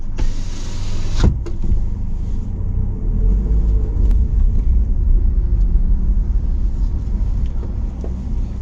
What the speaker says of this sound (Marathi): आता गाडी बघा मी इथेच थांबवतोय